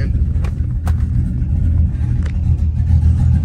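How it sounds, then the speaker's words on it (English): A truck engine fitted with a BTR Truck Norris cam and tuned with HP Tuners idles nearby with a deep, steady low rumble, its lopey idle running alone and loud throughout. "I'd call this more of a lopey idle."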